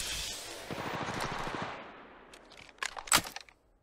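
Automatic weapon gunfire in the Apex Legends Mobile battle royale game: a rapid burst of shots fading off, followed by a few sharper, louder cracks and rattles before cutting to silence.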